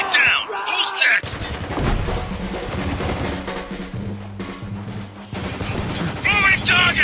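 Gunfire in a rooftop sniper firefight in the shooter Spec Ops The Line. Dense, loud bursts of rifle and machine-gun fire rattle for several seconds, with shouted voices at the start and end.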